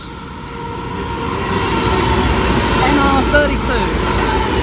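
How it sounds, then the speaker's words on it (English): A Pacific National freight train rumbles through platform two at Wondabyne Station in NSW, a loud, steady low roar with rail squeals and clatter as wagons pass close by, with a voice speaking over it. "Freight train coming through platform number two, Pacific National"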